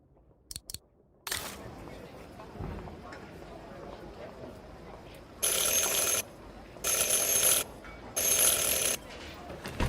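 A bell in the Syberia: The World Before video game rings three times in loud, evenly spaced bursts, following a few faint clicks and a stretch of quiet ambience.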